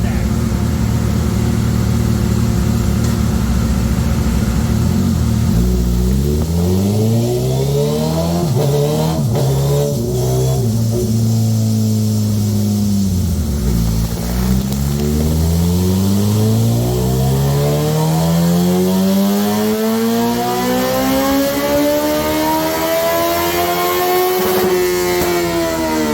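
A 2019 Suzuki Hayabusa fitted with velocity stacks revs hard on a dyno, its loud engine note sweeping up and down in repeated pulls, climbing steeply to a high wail near the end.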